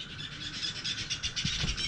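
A bird calls from a nest above a lodge in Amboseli, with a soft, repeated chirping that stays faint and distant over steady outdoor ambience.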